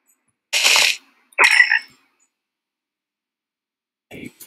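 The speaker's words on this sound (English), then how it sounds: "Hey, frogs." Frogs in the Minecraft video game, heard as two short croaking game sounds close together followed after a long silence by a third brief croak, clean and close with no talk.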